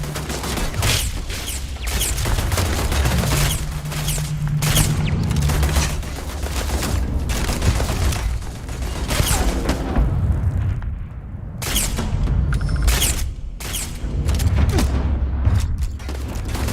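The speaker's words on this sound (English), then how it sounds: "this pistol is kind of nutty" Rapid, continuous pistol fire with booming impacts in Starfield's sci-fi combat, dense and loud throughout with brief lulls, and no talking.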